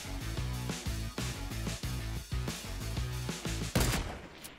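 Rapid gunfire from a video game shooter with a bolt-action rifle, dense repeated shots in rhythmic bursts throughout, with a sharper, louder blast near the end; no speech.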